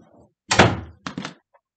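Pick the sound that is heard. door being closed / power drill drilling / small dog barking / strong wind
door being closed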